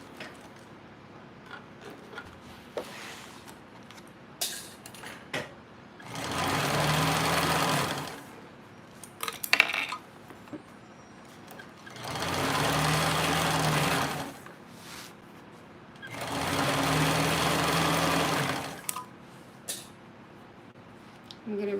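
A TrailBlazer sewing machine runs basting stitches in three sustained whirring bursts, each several seconds long, separated by pauses filled with handling clicks and rustling.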